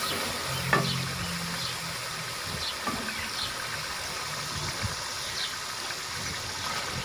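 Chicken and pumpkin shorba simmering in a pot gives a steady soft sizzle and bubble throughout, with a few faint stirring clinks and no voices.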